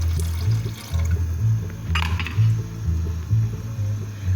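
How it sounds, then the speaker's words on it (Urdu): About a glass of water is poured into a pot of spices frying in ghee, giving a steady splashing, bubbling gurgle with a soft clink partway through, close by with no talking. "تقریباً 1 گلاس کے قریب پانی ڈال رہی ہوں۔"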